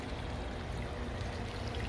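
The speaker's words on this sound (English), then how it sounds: "here's the current waterfall." A koi pond filter waterfall, turned down low, pours in a constant soft trickling rush, close by and steady, with no voices over it.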